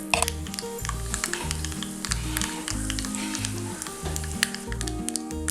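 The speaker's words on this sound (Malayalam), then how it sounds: "കടുക് വറുക്കുന്നതൊക്കെ ഓരോരുത്തരും ചെയ്യുന്ന പോലെ തന്നെ" Half a teaspoon of mustard seeds fries in a tablespoon of hot coconut oil, making a close, dense sizzle. Rapid sharp pops and spits sound over the hiss, and a low music bed runs underneath.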